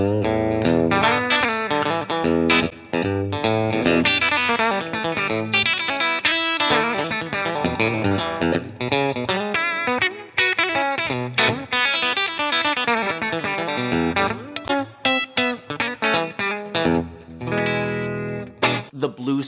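A Telecaster electric guitar with 1952-style pickups plays a chorded, twangy passage with effects, notes ringing and strummed in a lively rhythm, loud and close.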